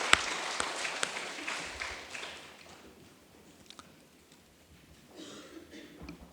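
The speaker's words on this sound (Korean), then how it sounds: "이 시간 우리 하나님께 영광 돌리는 박수를 하겠습니다." A church congregation at a Sunday service gives a short round of applause that is loudest at first and fades to scattered claps, with a brief swell near the end.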